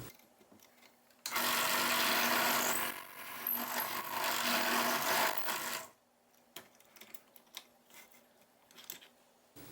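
A drill bores loudly through a wooden pen blank in one sustained burst of about four seconds, whining and grinding, then stops, leaving quieter scattered knocks and handling sounds.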